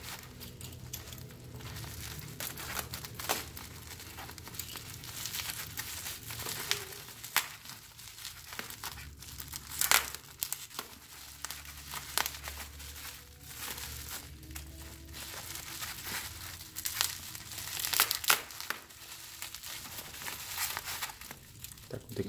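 Packaging of a silver iPhone 7 crinkles and rustles during unboxing, with steady close handling noise, occasional sharper crackles and taps, and brief tearing sounds over about twenty seconds.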